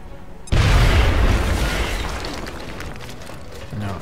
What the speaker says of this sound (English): What if I grenade it?